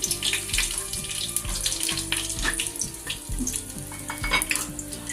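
Shahi jeera (caraway seeds) sizzle in hot oil in a bowl for Hyderabadi chicken 65 biryani. A steady frying hiss and crackle is joined by rhythmic pulsing background music, with no talk.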